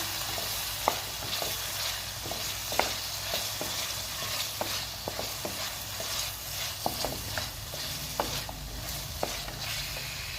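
Carrots with tomatoes frying in a pan for chicken veg macaroni give a soft continuous sizzle, broken by irregular clicks and scrapes of stirring, fairly quiet and close, with no voices.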